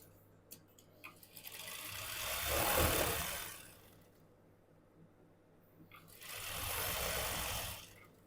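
A sewing machine stitches cigar pants in two sustained runs of whirring needle noise a few seconds apart, close and moderately loud, with a quiet pause and light handling clicks between them.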